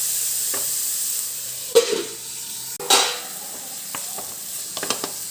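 Chopped onion sautés in a pan while cooking a banana-blossom chicken dum biryani, a steady close sizzle broken by a couple of stirring scrapes and light utensil clinks.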